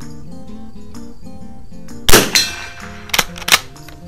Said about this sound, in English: I thought it'd be fun to shoot the gong with it.